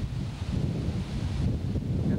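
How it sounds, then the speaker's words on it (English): Strong wind buffets the microphone on a windy day beside blue water and birch trees, a steady low rumbling roar with rustling that continues without a break for the whole stretch and no voices. "Here's that wind blowing."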